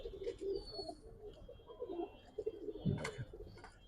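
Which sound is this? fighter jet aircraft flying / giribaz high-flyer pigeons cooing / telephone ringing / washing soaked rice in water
giribaz high-flyer pigeons cooing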